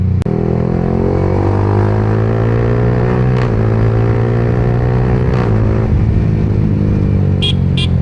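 A 2025 Yamaha R15M 150cc sport motorcycle riding at high speed gives a steady, loud engine drone with constant wind rush, holding an even pitch with slight shifts throughout.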